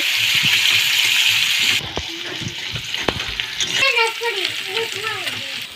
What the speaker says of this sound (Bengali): পেঁয়াজ দিয়ে দিচ্ছে দিদি। তেজপাতাও দিয়ে দিয়েছে, আর এর সঙ্গে ওকে লাড়ানো হচ্ছে।